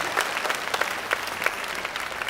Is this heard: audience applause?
yes